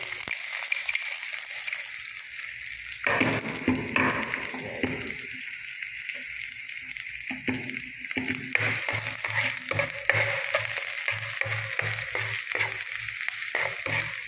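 Garlic and onion sauté in a pan for pork adobo with a steady, loud sizzle and frying crackle, plus intermittent stirring scrapes and clatter throughout.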